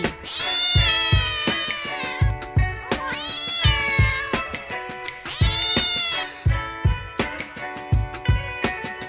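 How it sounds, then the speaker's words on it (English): A domestic cat meows loudly and close, several drawn-out, wavering calls repeating in succession with no talk. "Cat,"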